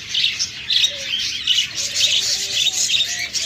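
Japanese pet birds in a cage give a busy stream of high chirps and tweets, close and continuous, with no voices.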